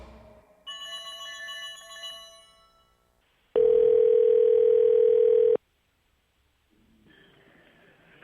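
Telephone ringback during a call placed to a podcast fan: a pure electronic ring tone holds steady for about two seconds, preceded by faint tonal beeps and followed by silence and quiet noise.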